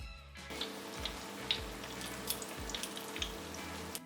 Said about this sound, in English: I'm going to pop some neutral oil into a frying pan and pop the pork in